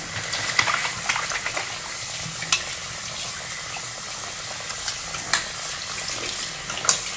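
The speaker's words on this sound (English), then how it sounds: "let me just wash it off so that it's not a confusion" A faucet runs steadily while foam cleanser is rinsed off a face, close and continuous with scattered splashes and small clicks over the flow, no talking heard.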